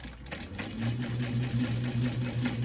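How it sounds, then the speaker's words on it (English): A sewing machine runs steadily, stitching zipper tape at a quarter-inch seam allowance for a travel lanyard, with a close, even mechanical hum and rhythmic needle chatter throughout. "And I'm going to sew that in place at like 1/4 inch seam allowance."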